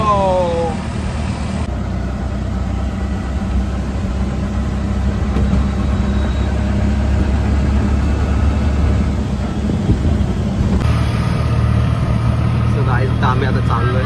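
Car engine running steadily while driving through heavy rain on a flooded road, a continuous low rumble throughout with a brief pitch change near the end.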